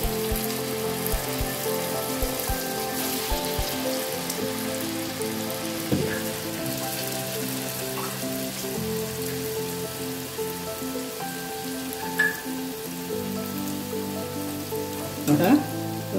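Urad dal vadas fry in hot oil with a steady, even sizzle and crackle that runs the whole time, close and moderately loud, with a few brief clinks from a utensil.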